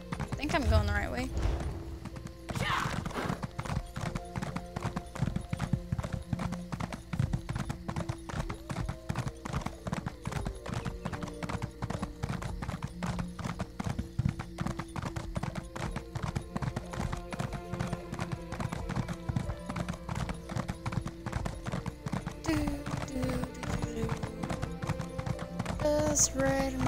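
Horse hooves clip-clopping in a steady rhythm in The Elder Scrolls Online while riding through the plains of Stormhaven, a continuous run of hoofbeats with a neigh near the start and a voice talking over them.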